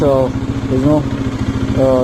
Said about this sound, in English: So I let the engine warm up for 5 more minutes and then start the drain process.